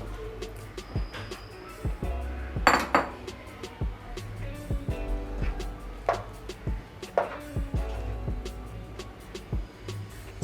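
Fried chicken pieces going into a pan of butter chicken masala, heard as close, irregular clinks and clatters of a spoon and metal cookware, with a few sharper knocks, with no one talking.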